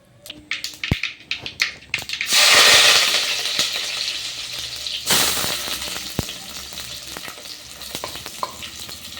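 Mustard seeds crackle in hot oil with sharp scattered pops, then onions hit the pan and a loud, steady sizzle surges up, settling into continuous frying with occasional stirring clinks, close by.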